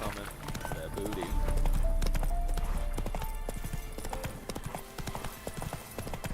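Roach's hoofbeats clop along a road at a quick, regular pace while riding in The Witcher 3, heard clearly under someone talking continuously over them.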